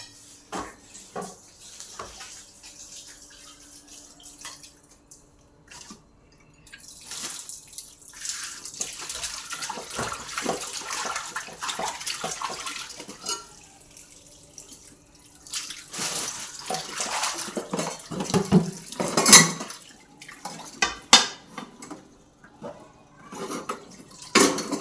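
A utensil being washed under a running kitchen tap, with water splashing intermittently and metal or dish clatter building louder toward the end, at close range and with no one talking.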